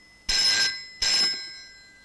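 Two bright electronic telephone rings, each about half a second long with a short gap between them, loud and close in an otherwise quiet room.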